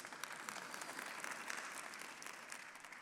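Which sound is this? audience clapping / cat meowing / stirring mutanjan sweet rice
audience clapping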